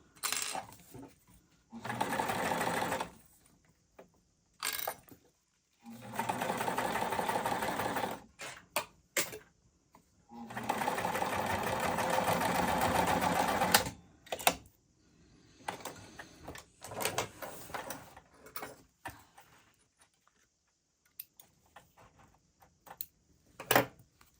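Sewing machine stitching a zipper onto a crescent bag, running in several loud sustained bursts separated by pauses, with shorter stop-start runs and small clicks toward the end.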